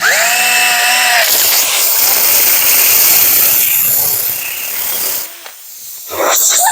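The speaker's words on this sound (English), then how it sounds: "So I'm going to use my drill." A power drill enlarges a nail hole in a tire, its motor whining loudly and steadily for several seconds before easing off and briefly starting up again near the end.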